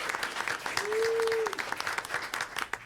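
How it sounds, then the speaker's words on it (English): A school board meeting audience gives warm, continuous applause for a student named Sophia, moderately distant, with a brief steady electronic tone sounding midway and faint voices underneath. "A round of applause for Sophia."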